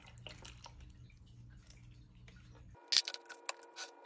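A tarantula enclosure is watered: after a low hum cuts out, a few short splashes and drips land close by, loud and distinct, with no one speaking.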